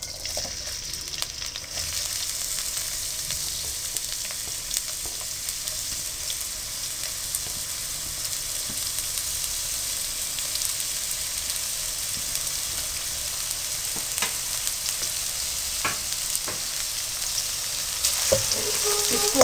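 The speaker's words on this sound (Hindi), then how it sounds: "और इसमें आप स्लाइस की हुई प्याज डाल दें।" Sliced onions fry in oil for a potato, carrot and pea curry, giving a steady, continuous close sizzle with a few faint stirring clicks and no talking.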